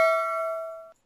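A single bright notification bell ding sounds loud and close, ringing with a clear sustained tone that decays slowly for about a second before cutting off, alone with no voices.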